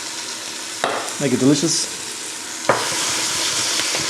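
Onions and garlic cook in a big pot with a steady frying hiss and a few scraping stir sounds, while a person speaks briefly over it.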